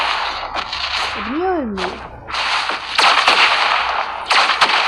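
Gunshots from the mobile video game PUBG Mobile sound as a few sharp cracks, sometimes in quick succession, over game noise. Someone talks briefly in the middle.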